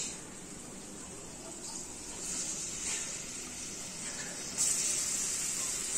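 Onion tipped into a hot pan of softened capsicum for chicken spring roll filling sets off a steady hiss and sizzle that swells louder near the end, close and alone.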